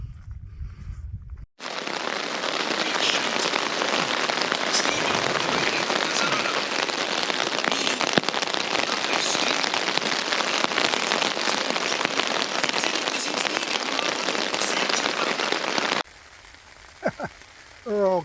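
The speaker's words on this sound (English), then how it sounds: "So it started raining now." Steady heavy rain pours down on open moorland, a dense, even hiss that continues for around fifteen seconds and then cuts to quieter outdoor sound with a few faint movements.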